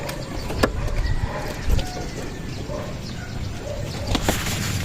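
Racing pigeons coo on a rooftop during a club training flight in Nueva Ecija, soft repeated calls in a steady outdoor murmur with faint traffic far off.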